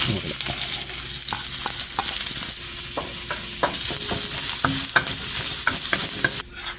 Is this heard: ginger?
yes